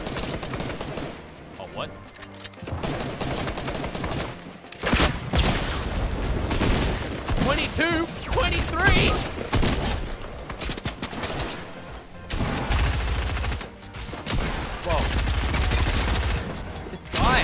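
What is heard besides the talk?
gunfire from enemies in the video game Fortnite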